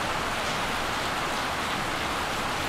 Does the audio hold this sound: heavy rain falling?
yes